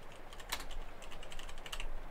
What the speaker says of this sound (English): excuse a very loud clacks of the keyboard